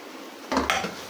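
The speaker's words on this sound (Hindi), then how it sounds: "अब हम क्या करेंगे कि इसमें जो हमने पुदीना काटा था वो डालकर मिक्स करेंगे" A spoon stirs chopped mint into onion masala in a pan, giving two quick close metallic clanks and scrapes against the cookware after a quiet start, with no voices.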